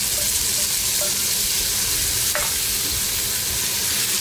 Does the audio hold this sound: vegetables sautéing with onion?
yes